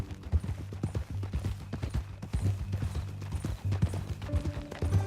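Horse hooves clip-clopping in Red Dead Redemption 2, a steady rhythmic trot of clear close hoofbeats on hard ground, moderately loud with faint background game ambience and no speech.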